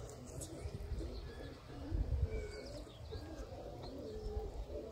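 Pigeons of fancy breeds such as teddy and golden coo softly in low, throaty murmurs, faint and continuous, with a little background chatter.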